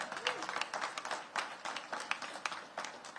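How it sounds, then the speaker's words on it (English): Applause from a school audience at a back-to-school event, a dense wash of many hands clapping at moderate distance with no talk over it. "Give them a round of applause."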